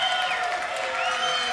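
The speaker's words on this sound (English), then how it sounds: "Listen to that round of applause for Phoenix." Wrestling match crowd applauding and cheering in an arena, a continuous wash of clapping and crowd noise at moderate loudness for the whole brief stretch.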